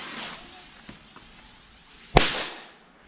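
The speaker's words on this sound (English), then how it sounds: "Next up is going to be a little half-gram firecracker, which we're going to throw, have a bit of fun with." A small half-gram firecracker is thrown and bursts with a single sharp crack, preceded by quiet rustling and followed by a short fading echo outdoors on Bonfire Night.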